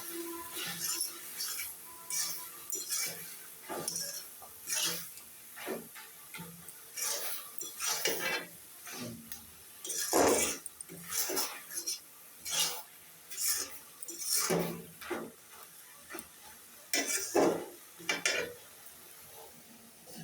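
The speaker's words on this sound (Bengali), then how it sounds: "এখন আমি দিয়ে দিব পরিমাণ মতো হলুদের গুঁড়া। এখন ভালোভাবে মিশিয়ে নেব।" Stirring turmeric into a taro leaf curry with fish heads, heard as rhythmic scraping and clinking of a spoon against the pan, repeated strokes at a steady pace over a quiet background.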